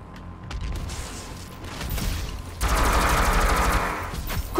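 Shotgun blasts and rapid weapon fire in the video game Doom, heavy booming shots and mechanical clatter building to a loud, sustained barrage in the second half.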